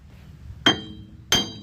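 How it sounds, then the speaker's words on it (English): A sledgehammer strikes a stuck rear wheel hub on the axle of a 2010 Dodge Grand Caravan twice, each blow a loud, sharp metallic clang with a ringing tail, spaced about two-thirds of a second apart. "This hub is supposed to be just hammered off the axle here, and it just won't budge"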